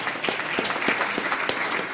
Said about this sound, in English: Let's go ahead and give ourselves a round of applause.